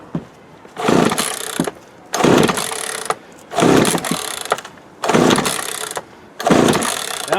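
Craftsman 42cc chainsaw, unused for years, being pull-started over and over: five loud bursts of rough engine sputter and cranking, each lasting about a second, with short quiet gaps between them, close to the listener.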